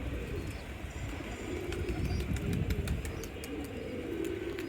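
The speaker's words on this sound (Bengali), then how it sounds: "আর ওই যে ওটাও একটা নতুন কবুতর" Pigeons being released into the air give a low, steady cooing murmur, with light flutters and clicks scattered over it, close and continuous throughout.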